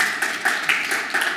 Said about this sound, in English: That's applause.